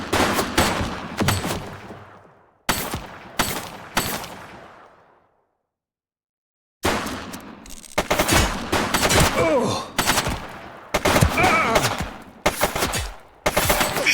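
Bursts of rapid gunfire in The Precinct game, several sharp volleys separated by short silences, loud and close with some echoing tails.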